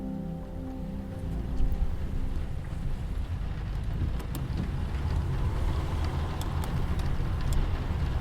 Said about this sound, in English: It's the middle of the night, in the middle of the wide open desert, and the rain is so bad you can barely see in front of your face.